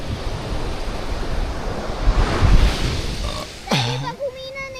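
Ocean waves roll in at Saud Beach, a broad rushing surf with wind buffeting the microphone, swelling to a peak midway and then easing, followed near the end by a brief vocal sound.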